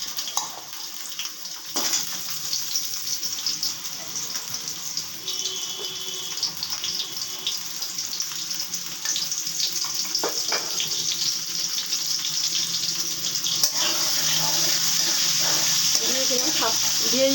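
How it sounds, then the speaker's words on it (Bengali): Potatoes go into hot oil in a kadai and set up a continuous, close frying hiss that stays fairly even and grows slightly denser toward the end, with occasional soft clatters and brief talk. "তেলটা গরম হয়ে গেছে, আলুগুলো ছেড়ে দিচ্ছি"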